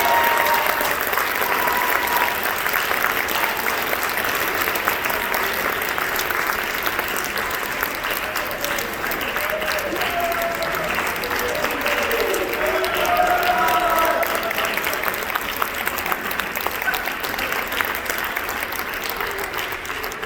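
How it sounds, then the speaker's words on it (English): An audience at a high school band banquet awards ceremony claps loudly and steadily for about twenty seconds. The applause is dense and continuous, with no break. "Let's give them a round of applause."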